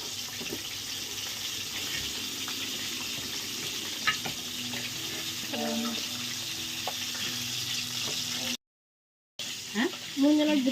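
Chicken leg pieces roasting in masala in a pan, a steady close sizzle with occasional stirring clinks, a brief silent gap near the end, then a voice speaking briefly.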